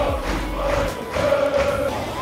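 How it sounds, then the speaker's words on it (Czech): FC Köln supporters in a stadium during a match against FC Slovácko raise a broad, continuous crowd roar, with a sustained chanting tone running through the noise. "Je neuvěřitelné, jak moc fanoušci Kolína jejich týmu fandí"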